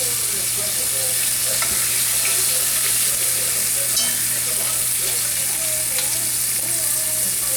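Country style steak fries in a pan with a steady, close hiss of sizzling fat. A few light scrapes and clicks are scattered through it, and no one speaks.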